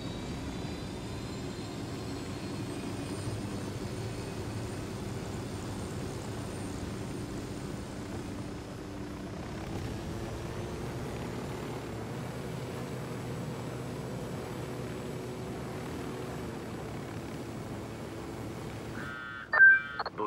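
A helicopter in the video game Ghost Recon Wildlands hums with a steady, low engine drone that shifts pitch slightly midway, with a brief electronic beep at the very end.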